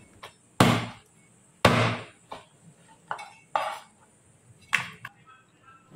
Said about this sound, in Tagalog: At ito nga, slice na natin yung ating lechong kawali